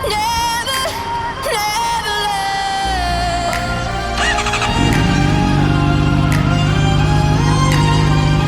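A sport motorcycle on Anlas Viento Sport tyres runs loud and close, its engine whining at high revs, with a deeper drone building midway and music playing over it.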